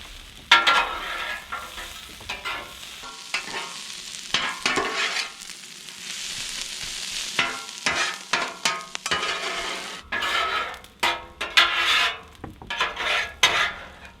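Venison stir fry with fettuccine noodles being stirred and fried on a Blackstone griddle, with continuous sizzling and repeated scraping of a metal spatula against the hot flat-top, close and steady.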